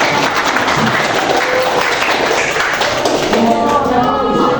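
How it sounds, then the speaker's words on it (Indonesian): A classroom audience at a teacher-training practical exam session claps steadily and densely, loud and close throughout, with no pauses or talk breaking through. "Silakan tepuk tangan untuk"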